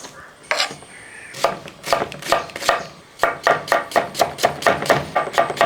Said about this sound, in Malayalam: അപ്പോൾ ഈ ചീരയെല്ലാം നരിഞ്ഞെടുക്കട്ടെ